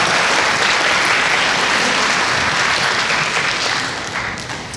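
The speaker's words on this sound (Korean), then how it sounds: "수고한 직원들을 위해서 격려하는 박수 한번 하겠습니다" A church congregation gives sustained, steady applause to thank the sound crew who installed and ran the sanctuary audio system, a dense wash of many hands clapping that fades slightly near the end.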